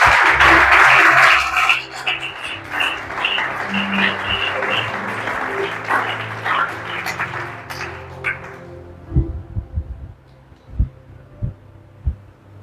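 A church congregation breaks into loud applause acclaiming Jesus, the dense clapping fading after about eight seconds into scattered claps and low thuds in a large room.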